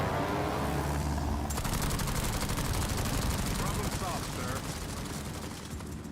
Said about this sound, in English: You can see just how many rockets are unleashed here.